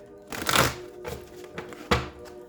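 A deck of cards is shuffled in a few separate bursts, with a long riffle followed by two shorter rustling strokes and a soft thunk, nearby and moderately loud, with no speech.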